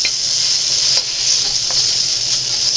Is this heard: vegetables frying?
yes